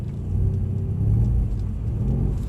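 A Mercedes-Benz car drifting on a track gives a steady, loud, low engine rumble that holds throughout with slight surges and no voices.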